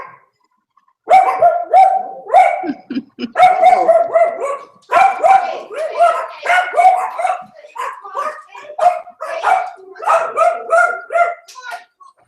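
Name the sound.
dog barking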